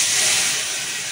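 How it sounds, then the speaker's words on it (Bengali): Spice paste hits a hot pan of fried potatoes and egg, giving a loud, steady broadband sizzle that stays close and constant, easing slightly toward the end, with no voices. "এবার মশলাটা দিয়ে দেবো"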